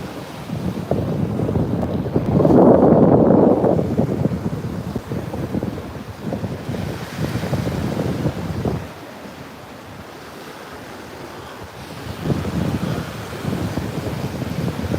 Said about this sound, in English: with the waves in the background